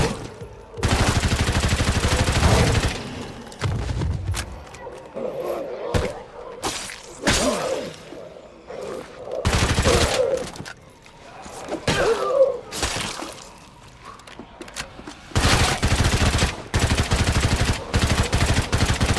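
Automatic gunfire in the zombie game State of Decay 2, with long loud bursts of rapid shots up front, shorter volleys and scattered single shots with thuds between them, then sustained firing again at the end.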